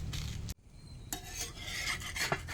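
A papaya roti is laid onto a hot griddle, giving a short hiss and scraping rasp, then soft crackling and sizzling with small utensil rubs, close and fairly quiet, with no talking.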